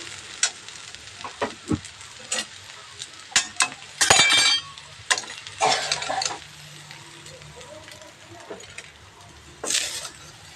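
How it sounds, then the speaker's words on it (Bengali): Soybean chunks frying in a pan and being stirred, with scattered scrapes and clinks from the spoon over a soft sizzle and sharper bursts of crackling, close and fairly loud. "সয়াবিনটা আমার ভাজা হয়ে গেছে"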